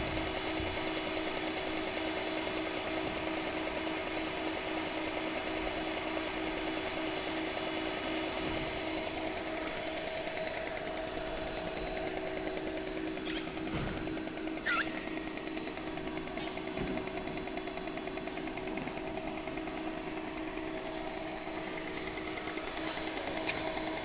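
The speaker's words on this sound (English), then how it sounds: "Welder head seems to be functioning." An AMI 9E orbital weld head runs steadily throughout with a continuous mechanical whir and hum, loud and close, with a few brief sharper clicks near the middle and no talking.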